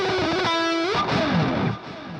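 A distorted electric guitar lead plays a sustained bending note, then a quick descending run, with a washy reverb tail and a bright, saturated tone.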